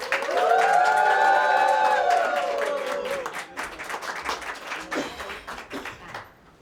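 Audience applause greets a congressional candidate at a campaign announcement, dense clapping throughout while a sustained tonal sound rings loudly over the first three seconds; the clapping then thins into scattered claps before fading out.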